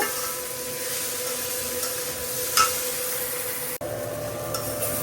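Steady sizzling of fried potatoes and spices in a pan, a continuous hiss with a brief scrape of stirring partway through.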